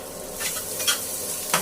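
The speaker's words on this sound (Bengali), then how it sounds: "মশলাটা একটুখানি ভালো করে কষানো হোক" Spices fry and sizzle in a pan for an egg curry, with a few short scraping stirs breaking through the steady hiss, close and moderately quiet.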